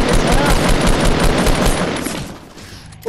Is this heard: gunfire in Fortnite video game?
yes